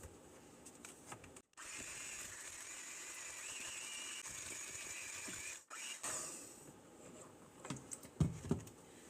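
An electric mixer creams cake batter in a bowl, a steady buzzing whir broken by two brief stops, sped up and played quietly.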